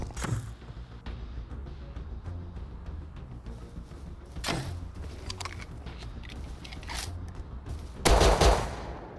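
Bursts of gunfire in the survival game Rust, several sharp broadband shots scattered through the clip with a louder, denser volley near the end, set against a steady low rumble of background ambience.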